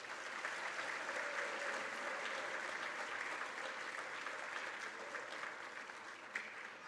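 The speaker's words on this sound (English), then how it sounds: "If we could please have one more round of applause for all of our retirees." Steady, dense applause from a seated audience honoring retirees at a Pitman Board of Education student recognition ceremony, a continuous wash of many hands clapping at an even level for the full length, tapering slightly near the end.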